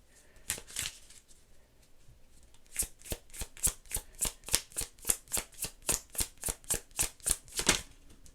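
A tarot card deck is shuffled close up: a couple of soft riffles, then a fast, steady run of about fifteen crisp card snaps in even rhythm, with no talking.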